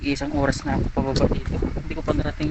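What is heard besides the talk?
None of the usual background noises is heard.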